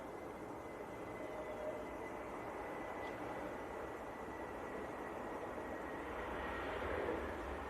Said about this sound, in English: Is this the KLM Airbus, Tom? It looks like it. A321 Neo from Amsterdam.